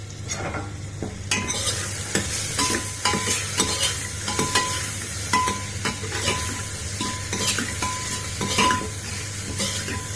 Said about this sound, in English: I have added onions with oil and salt in the cooker. We'll make it golden brown.